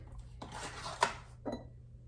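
A medium egg cracks against the rim of a mixing bowl while cookies-and-cream cookie dough is being made, giving a short sharp tap, a brief wet spill and a smaller knock after it, all quiet and close.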